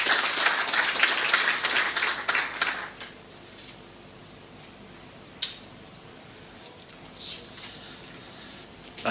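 A conference crowd at a potato industry forum gives a short round of applause that fades within three seconds into quiet room tone, broken later by a single sharp knock and faint rustling.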